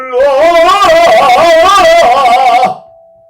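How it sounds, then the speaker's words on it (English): A sustained voice-like hum sets a metal gong ringing, its overtones swelling together and then leaving a single clear tone humming briefly after the voice stops. "I've got this gong, which I can demonstrate. But you notice it's got a ring."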